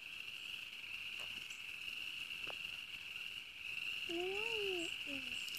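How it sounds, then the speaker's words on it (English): A steady, high-pitched chorus of frogs rings continuously from a distance, with a couple of brief warbling calls rising near the end. "if you listen, you can hear frogs"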